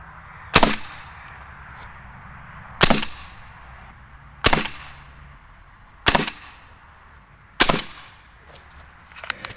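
Umarex HDR68 CO2 air pistol with a tuning barrel fires five sharp, loud shots, each a crisp crack with a short decaying tail, spaced about one and a half to two seconds apart in a quiet setting.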